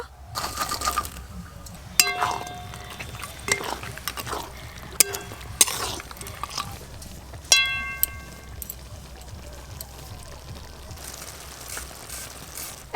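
Fried crab pieces and water go into a simmering crab curry with potatoes in a pan, giving scattered metallic clinks and splashy knocks over a low bubbling background.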